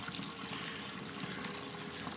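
Water is poured onto the head of a cow with a high fever, making a continuous splashing rush that stays steady and fairly loud throughout, with no talk.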